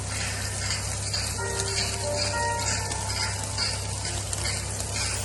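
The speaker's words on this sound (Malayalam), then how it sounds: "ഓൾറെഡി നമ്മൾ ഉപ്പ്, കുരുമുളക് മിക്സ് ചെയ്തിട്ടുള്ള സാൽമൺ നമുക്ക് ഫ്രൈ ചെയ്തെടുക്കാം" Salmon seasoned with salt and pepper frying in olive oil gives off a steady, close sizzling hiss with faint crackles and pops. The sound stays even throughout, with no voices.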